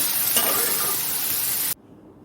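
Tomato and drumsticks lightly frying in a pan for a fish curry, a loud, steady hiss of sizzling close by that stops abruptly, leaving quiet room tone.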